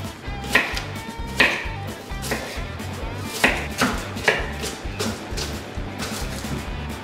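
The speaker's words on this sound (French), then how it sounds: "Vous allez ensuite hacher à la main les échalotes." Shallots chopped by hand with a knife on a board, a steady run of crisp, close knife strikes repeating in regular rhythm, with occasional louder chops and no talk.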